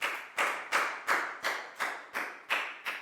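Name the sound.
class applause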